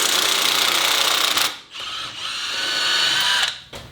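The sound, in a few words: impact wrench removing 17 mm bolt on Mazda 3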